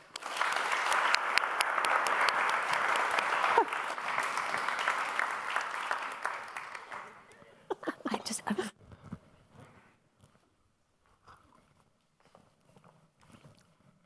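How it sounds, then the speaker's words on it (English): An audience at a talk on the next financial crisis gives a warm round of applause for Thomas Balie, dense and loud for about seven seconds, then fading into scattered claps, footsteps and quiet room noise. "Give him a warm hand of applause"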